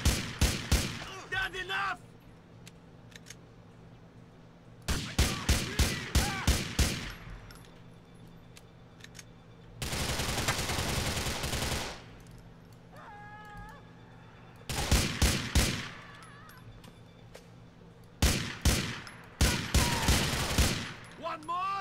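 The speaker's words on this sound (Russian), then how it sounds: "Ну ты бы не падал так с пушкой-то стреляющей." Bursts of gunfire from a shooting gun: rapid, loud automatic volleys come in several separate clusters with quieter gaps between them, one long sustained burst in the middle, and faint speech in some of the pauses.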